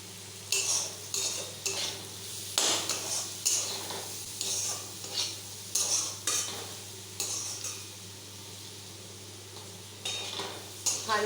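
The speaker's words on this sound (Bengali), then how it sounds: "এখানে আমি প্রত্যেকটা সবজি কিন্তু লো ফ্লেমের আঁচে ভাজছি।" Vegetables for fried rice stir-frying over a low flame in a pan, with a soft steady sizzle under repeated metal utensil scrapes and stirring clatters at an uneven rhythm, close and alone without talk.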